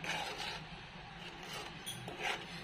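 Masala gravy for hotel-style matar paneer is stirred and fried in oil in a pan, giving a steady close scraping and rubbing with soft sizzle throughout, no talking.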